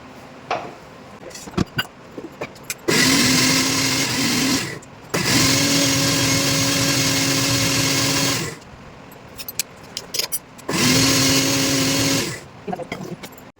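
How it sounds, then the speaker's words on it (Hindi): A mixer grinder grinds tomato, onion, ginger and garlic masala in three loud, steady whirring bursts, each lasting a few seconds. Short pauses with small clicks and knocks separate the bursts. "और मसाले को लेंगे हम पीस"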